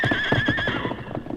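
A strong horse gives a loud, close whinny that quavers and then fades, with faint hoof clatter underneath.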